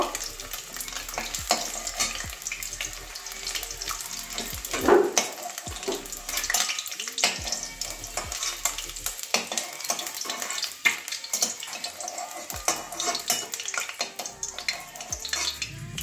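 Boiled potatoes frying in a pan, a continuous sizzle broken by repeated scraping and stirring clatters from a spatula against the metal.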